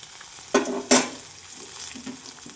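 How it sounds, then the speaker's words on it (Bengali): Nigella seeds tempering in hot oil alongside dried red chilli, a sudden sharp sizzling burst followed by a second louder crackle as they hit the pan, then a quieter fading fry, close up and alone. "ডাঁটাগুলো ভাজতে ভাজতে কালো জিরেটা পুড়ে যাবে বলে কালো জিরেটা আগে ফোড়ন দিয়ে নিই"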